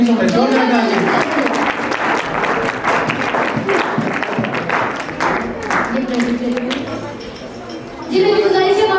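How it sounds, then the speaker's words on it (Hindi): Loud applause from the audience at a quiz activity for children, youth and adults, crowd clapping mixed with speech and voices throughout, swelling again at the end. "जोरदार तालियां"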